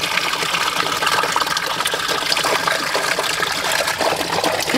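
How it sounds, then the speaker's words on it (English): Water pours steadily into a koi pond drum filter on a converted swimming-pool pond setup, a close, continuous splashing rush that holds an even level throughout with no voices. "So you can see it filling up."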